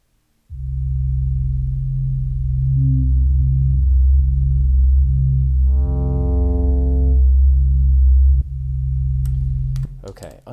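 An ambient synth pad on a Teenage Engineering KO II, played an octave up, holds a sustained tone for about eight seconds, swelling with brighter harmonics midway, then a quieter tail and a few clicks at the end.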